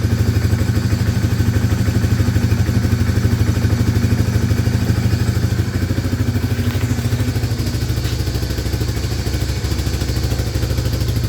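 A 1995 Honda Fourtrax 300 ATV, revived after sitting about fifteen years, runs close by with a loud, steady, throbbing engine drone and a light mechanical clatter that holds evenly throughout, with no talk.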